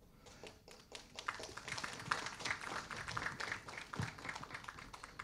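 Sparse, scattered hand claps from a small audience at a Tamil movie audio launch, a few uneven claps in a reverberant hall rising and fading over several seconds.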